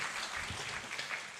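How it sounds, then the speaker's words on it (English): Audience clapping at a business conference, a short, faint patter of many hands heard from a distance. "Let's give him a bigger hand clap than that."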